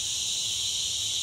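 Cicadas in a Dominican Republic forest give a continuous, dense, high-pitched buzz that stays loud and even from start to finish, with no voices.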